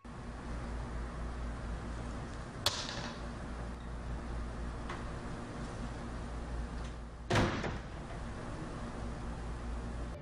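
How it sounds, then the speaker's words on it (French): A door in a shop slams shut with a single sharp bang late in the clip, preceded by a smaller knock of a falling dustpan, over a steady background hiss with no talk. "on aperçoit que la pelle à poussière soudainement tombe et puis la porte se ferme brusquement"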